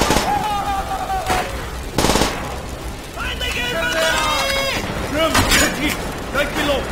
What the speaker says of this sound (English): Now see the PPS is powerful.